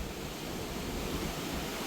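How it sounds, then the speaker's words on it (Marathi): Water from a waterfall rushes out through a cave near Banff, a steady, dense roar of torrent with no break, close and enveloping, and no voices over it. "आज वॉटरफॉल बाहेरून दिसतो पण इथे या केव मधून हे पाणी सगळं बाहेर जाते."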